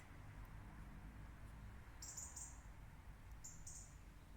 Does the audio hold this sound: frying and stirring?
no